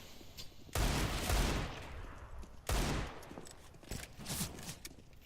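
Desert Eagle pistol shots ring out in a Counter-Strike match: two heavy booming reports a couple of seconds apart, each trailing into a rattling decay, then a softer burst of fire, all fairly faint.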